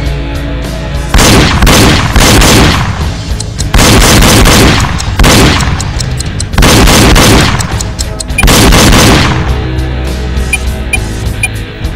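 Loud gunfire from the Nintendo Wii shooting game Reload comes in four or five dense volleys of rapid shots, each lasting about a second or more, separated by short gaps.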